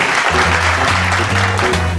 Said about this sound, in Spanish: Fuerte el aplauso para Pablo Mieres